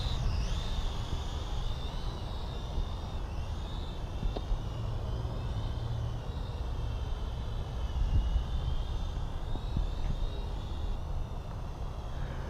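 A SONGYANG SY-X33 folding drone lifts off and hovers, giving a continuous, even, high whining buzz of spinning propellers that holds steady throughout at a moderate, nearby level.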